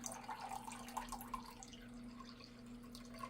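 V8 vegetable juice pours steadily from a can into a measuring container, a soft continuous liquid trickle with a few dripping splashes near the start, close and fairly quiet.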